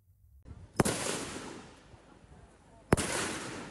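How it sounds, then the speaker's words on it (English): Two sharp, loud gunshots ring out at a makeshift shooting range deep in a Myanmar forest, each followed by a long echoing rumble through the trees, the shots about two seconds apart. "Gunshots ring out at this makeshift shooting range deep in the forests of Myanmar."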